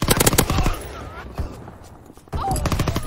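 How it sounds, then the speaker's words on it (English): Shotgun fire in Call of Duty: loud, close blasts cluster in the first half-second, then the action quiets before another burst of gunfire kicks in around the final second, under steady game noise. "Shotguns, of course."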